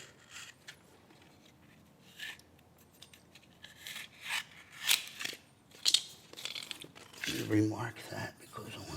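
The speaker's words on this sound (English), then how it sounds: "So you just put a little slice in the paper." A knife slices through the paper facing of a drywall blowout patch, giving short, close scratchy cuts and rasping strokes in irregular bursts, with a person talking between them.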